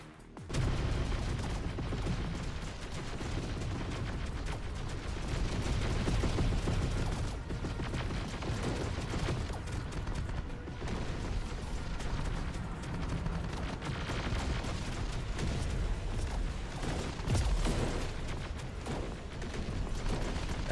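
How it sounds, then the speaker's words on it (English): Anti-tank weapons and gunfire in the video game Terminator Dark Fate Defiance, a dense, continuous battle din of overlapping shots and blasts that keeps up without pause. "Anti-tank weapons just flying everywhere."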